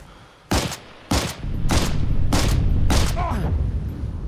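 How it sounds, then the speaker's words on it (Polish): Five sharp, loud sniper rifle shots in the video game Heroes & Generals, spaced roughly half a second apart, each with a booming broadband crack, followed by a lingering rumble and faint battlefield noise. "Jejku, snajper."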